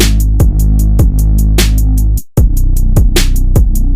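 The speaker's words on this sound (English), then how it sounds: "Very simple hi-hats." Simple hi-hat pattern in a trap beat, playing crisp regular ticks over booming bass hits and snares, with a brief dropout near the middle before the loop resumes, loud and alone with no talk.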